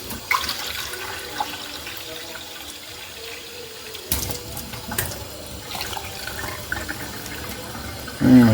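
Water runs steadily from a tap into a sink, a constant splashing hiss with a few small clunks, close by.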